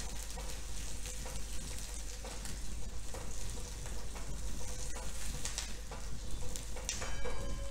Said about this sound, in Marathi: त्याचबरोबर जिरे घालणार आहोत। जिऱ्याने त्याला एक छान खमंगपणा येणार आहे।